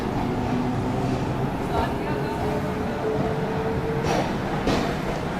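The Sampoorn Kranti express rolls slowly past Danapur with a steady rumble and clatter, while people talk over it nearby.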